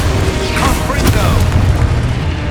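Confringo fire spell blast in Hogwarts Legacy, a booming burst that rolls into a sustained rumble under continuous game noise, with voices speaking alongside.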